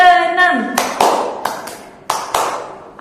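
A group of children at a scout activity clap together in rhythmic bursts, several sharp, distinct claps in a patterned sequence following a sung or chanted call from an adult voice at the start.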